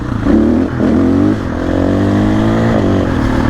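A 2024 KTM 500 EXC-F enduro motorcycle's single-cylinder engine revs hard and climbs quickly, rising and dipping in pitch several times, loud and close with no talking.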